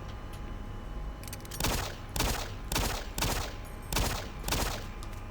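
Bursts of gunfire from the video game Doom 3 ring out in a regular rhythm, five or six loud blasts about half a second to a second apart, each with a sharp attack and a short decay.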